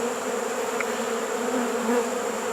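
A swarm of bees fills a backyard with a dense, continuous buzzing hum, steady and close, with no voices.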